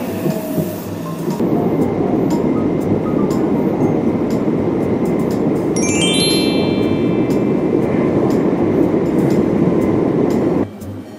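A Meitetsu private railway electric train runs loudly and close by, with a constant rolling roar, rhythmic clicking over rail joints and a brief high metallic squeal partway through before the noise drops off at the end.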